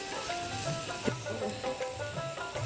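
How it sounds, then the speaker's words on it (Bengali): Shredded cabbage and chopped green chilli hitting hot oil for street-style egg chowmein, a steady close sizzle with light stirring clinks, no talk. "তেলটা গরম হয়েছে এখন দিয়ে দেবো বাঁধাকপি দিব কাঁচা লঙ্কা কুচি"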